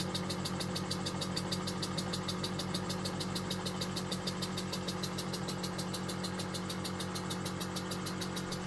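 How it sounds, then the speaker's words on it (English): A small compressor runs at a slow, steady speed, its rhythmic mechanical chugging and fine regular ticking continuous and even throughout, with no voices. "This compressor, it works at a nice slow speed."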